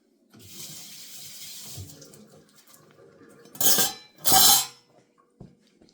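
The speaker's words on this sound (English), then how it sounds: "let me wash my hands a sec" Tap water running into a kitchen sink for hand washing, a soft steady flow followed by two louder splashing gushes and faint clinks.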